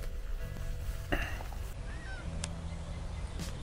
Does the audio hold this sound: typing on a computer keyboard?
no